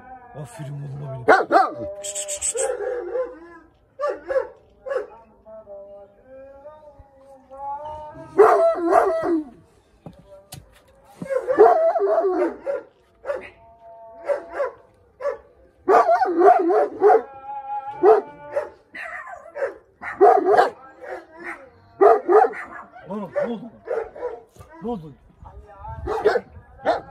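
Several Kangal dogs bark, yip and let out drawn-out howling whines in repeated bursts nearby, fairly loud and continuing throughout, with people talking among them.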